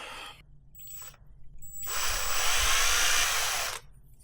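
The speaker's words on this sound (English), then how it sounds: "I'm gonna try to drill this piece in here" A small drill bores a hole in a piece for a 1940s-style fishing lure, with two short bursts of whine and then a steady, louder grinding run of about two seconds, close up.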